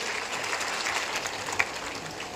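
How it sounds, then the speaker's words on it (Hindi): Crowd at an outdoor political rally in India claps in welcome for a union defence minister, a steady dense wash of applause from many hands, moderately loud and continuous with a brief louder spot. "जोरदार तालियों से हमारे राजनाथ सिंह जी का स्वागत करिए।"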